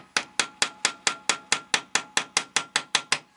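A bolt is hammered out of a chainsaw carburetor with fourteen sharp metallic blows in a steady, even rhythm, each strike ringing briefly before the next lands.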